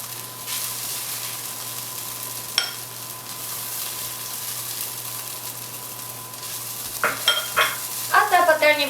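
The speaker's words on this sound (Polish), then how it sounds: "Usmażymy cebulę" Onions frying in a pan give a quiet, even sizzle over a low hum, with a single clink and then a cluster of louder scrapes and taps near the end.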